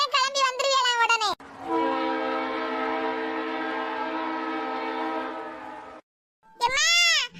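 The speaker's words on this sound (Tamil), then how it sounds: "ஆனந்தபுரி எக்ஸ்பிரஸ் வந்துட்டு." The Ananthapuri Express train sounds a long, steady horn as it arrives, a loud blast of roughly four seconds. Animated character voices come just before and after it.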